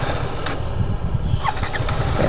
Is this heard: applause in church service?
no